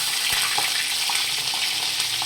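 Green chilies sizzling in hot oil for poha alongside curry leaves, a constant dense hiss with faint pops and a single low knock, close and steady.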